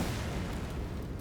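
Explosion in Elden Ring, a brief, dense, loud boom with rumbling low end filling a short moment, no speech.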